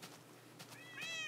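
A cat meows in Minecraft, a single short, quiet mew near the end of a brief stretch of soft game background with faint clicks.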